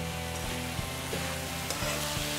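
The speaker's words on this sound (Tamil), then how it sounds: "காய் ஓரளவுக்கு இந்த நெய்யிலே நல்லா வதங்கிட்டு" Vegetables sautéing in ghee for a Karnataka hotel-style saagu side dish, giving a steady close sizzle and frying crackle with faint stirring bumps, no talk.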